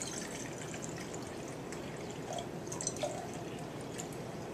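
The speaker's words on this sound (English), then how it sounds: "we're going to fill the beakers up, and you're going to fill them up to 300 milliliters with the water" Water poured into laboratory beakers to fill them, a steady soft trickle and light dripping close by, heard alone with no talk.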